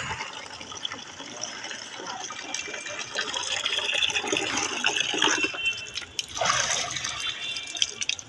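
Water from a household tap runs into a small bucket, a steady rushing fill that grows fuller and louder partway through, with faint voices in the background.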